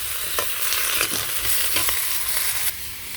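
Home-grown vegetables fry in hot oil with cumin, a steady close sizzle broken by repeated scraping stirs of a spoon against the pan, with no voices.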